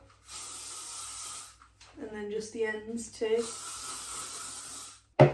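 L'Oreal Elnett hairspray hisses onto hair in two sustained bursts, a long spray at the start and another near the end, with someone speaking briefly between them and a sharp click closing the clip.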